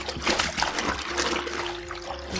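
A T-shirt being hand washed in a little soapy water: steady sloshing, squishing and dripping, close and continuous, with no talking over it.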